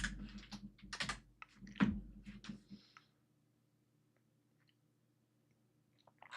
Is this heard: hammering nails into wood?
no